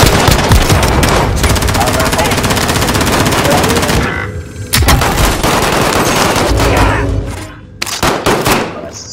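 Loud, rapid automatic gunfire in Call of Duty Warzone comes in long continuous bursts, with a short break after about four seconds and further volleys and booms after it.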